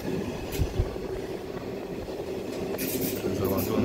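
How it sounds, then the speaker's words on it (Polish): Rail cars of a car-carrying shuttle train bound for Täsch, Switzerland, rumble along with steady low clatter and faint squeals, heard from on board at moderate level. "Szwajcaria, przejazd, przewóz samochodów pociągiem, kierunek Tarz i później Zermatt."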